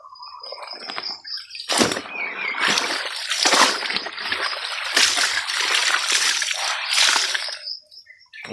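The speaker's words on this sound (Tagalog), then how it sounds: "laba tayo ngayon, maglaba." Clothes are hand-washed in a basin, with loud close splashing, sloshing and wet scrubbing in uneven bursts, then quieter dripping at the end.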